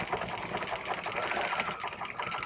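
A sewing machine runs continuously, stitching a 5/8 inch construction seam on vest bag lining, with a fast, even mechanical chatter close to the mic and no talking.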